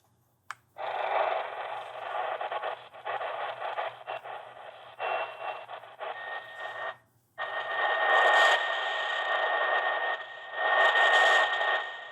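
An XHDATA D-220 portable AM/FM radio tuned to medium wave gives out loud, steady broadcast audio with hiss and interference, briefly broken near the start and again midway before resuming strongly.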